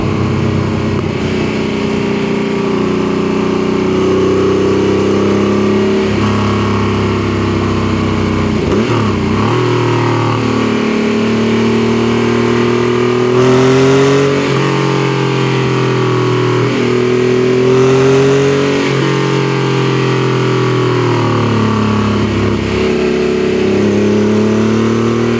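An air-cooled Porsche 964 911 climbs the Reefton Spur mountain road near Melbourne: loud, continuous engine drone heard from inside, rising and falling with repeated revs and gear changes through bends, with no talking.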